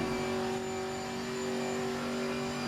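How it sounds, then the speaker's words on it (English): A Camaro race car in Assetto Corsa Competizione at Spa emits a thin, steady supercharger whine over a muted engine roar, heard faintly and continuously. "Listen to that supercharger whine."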